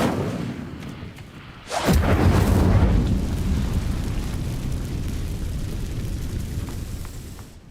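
An Incendio fire spell in Hogwarts Legacy ignites dry vines with a sudden loud whoosh and burst, followed by a sustained crackling, roaring blaze that slowly fades.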